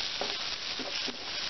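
Fenugreek leaves frying with onions in a pan for chicken, a continuous bright sizzle with a few soft stirring scrapes, close and steady throughout.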